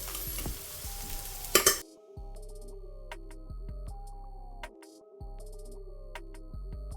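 Rice is stirred into shellfish sizzling in oil in a pan, with a burst of frying hiss and scraping at first, then quieter intermittent stirring and clinks.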